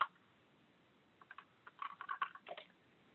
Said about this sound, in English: And let's type that reference number in.